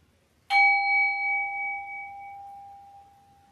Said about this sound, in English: Remember the bell from the story?